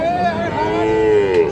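A Friesian or crossbred bull at a busy cattle market lets out one long, loud, close moo that slides gradually downward in pitch, with faint crowd noise behind it and no clear talk.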